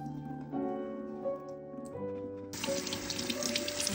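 A kitchen tap is turned on partway through, and water pours in a steady, bright rush into a sink during cooking prep, after quieter handling sounds.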